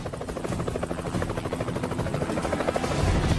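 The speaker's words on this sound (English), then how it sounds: "When the helicopter was coming in to land" A police helicopter drones close by as it comes in to land, its rotor thumping in a fast steady pulse over a dense engine roar that grows slightly louder toward the end.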